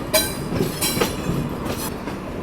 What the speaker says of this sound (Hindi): फ़िलहाल पहले ये डिपार्चर लेते हैं वंदे भारत का